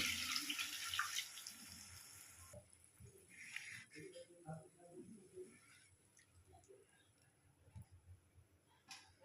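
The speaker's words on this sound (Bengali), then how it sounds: "দিয়ে দিচ্ছি জল।" Water poured from a tap-like stream into a pan of sizzling mustard spice paste for shorshe ilish, a bright splashing rush for about two seconds, followed by quieter clatter and faint talk.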